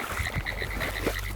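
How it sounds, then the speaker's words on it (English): Tree frogs croaking in Central Florida, a repeated rhythmic chorus of close, fairly loud calls with no talking. "Today we're going to focus on tree frogs."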